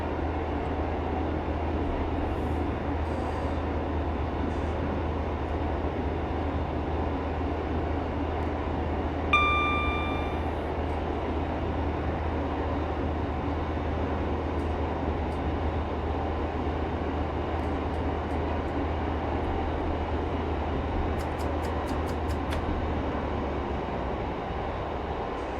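A Class 142 diesel railbus runs steadily in Train Sim 2022 on a Manchester Victoria to Warrington Bank Quay route, giving a constant low engine drone and rail rumble with a brief faint squeal and a few light clicks, no talk.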